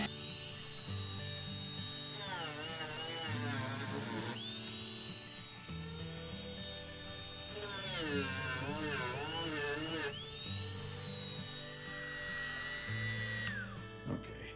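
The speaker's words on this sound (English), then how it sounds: "I'm going to fire up my Dremel and with a wire wheel and just burnish the paint off the side of the rail" A Dremel rotary tool fitted with a wire wheel whines at high speed as it burnishes paint off a model railway rail, its pitch rising and dipping under load in two long close passes.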